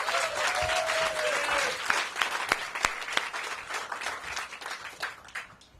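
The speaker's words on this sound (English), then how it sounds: "Let's give them a big round of applause." Crowd applause at an outdoor groundbreaking ceremony for recreational fields on the RFK Stadium campus, a dense burst of clapping that gradually thins, with a few louder individual claps near the front.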